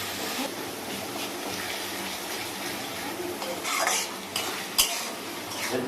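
Tomato frying in a pan for a home-cooked curry, a continuous soft sizzle with scraping and stirring from a utensil, plus a few light metallic clinks against the pan toward the end.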